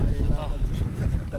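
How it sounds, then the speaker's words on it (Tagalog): Strong wind buffets the microphone at a lakeside car camping and fishing spot, a dense low rumbling roar that gusts unevenly throughout the brief moment. "malakas pa rin yung hangin"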